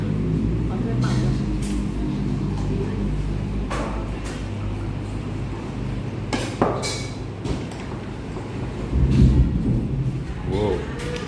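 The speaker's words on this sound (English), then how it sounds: "Whoa, whoa, whoa. Thunder." Thunder rumbles during the rainy season in Hua Hin, Thailand, a low rolling boom swelling near the end beneath steady rain-like noise, with people talking over it.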